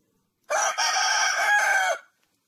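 A Turkish Ligorin rooster crows once, loud and close, a single sustained call of about one and a half seconds with a brief break near its start, against an otherwise silent background.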